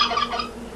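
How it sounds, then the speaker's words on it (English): Big turkeys gobbling in the PlayStation Home online game world, a short burst of close, loud, warbling gobbles alone with no talk. "There's the big turkeys."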